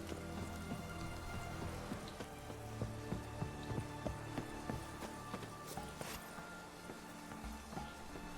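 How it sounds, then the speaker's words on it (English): Steady patter of rain in The Witcher 3: Wild Hunt video game, with scattered drops tapping on surfaces, soft and continuous, with a faint low hum underneath. "Looks like rain. I can hear it."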